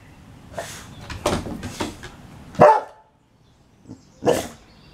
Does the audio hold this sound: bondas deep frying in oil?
no